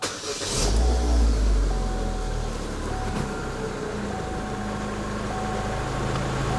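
A 2013 Chevrolet Spin LTZ with automatic transmission cranks and fires up, followed by a steady close idle with a brief rev at the start and a faint high whine above the engine hum.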